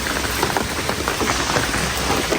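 Heavy rain pours without a break during a village flood, a dense, even hiss of drops striking surfaces, with no speech.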